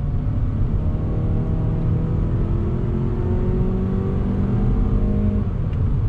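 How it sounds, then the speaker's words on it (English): A 2019 Mazda 3 AWD hatchback in sport mode accelerates hard from about 20 mph as its 6-speed automatic kicks down, engine drone rising steadily and loudly inside the cabin with no talking. "Let me go ahead and get on the loud pedal. 6-speed kicks down."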